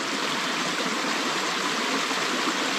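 A creek holding inland redband trout rushes steadily as a dense, even hiss of flowing water, close and continuous without pause.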